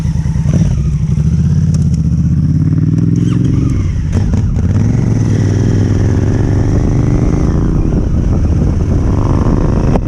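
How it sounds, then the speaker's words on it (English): A Honda motorcycle engine runs loud and close on a desert trip, a steady droning rumble whose pitch rises and falls as it revs and pulls, with wind and clatter mixed in and no talk. "Listen to that Honda."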